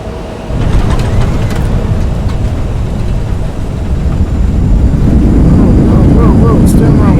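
An airliner, an Endeavor Air regional jet arriving at LaGuardia, touches down on the runway with thrust reversers deployed, a loud, sustained roar of broadband engine noise that swells stronger toward the end, with people talking faintly underneath.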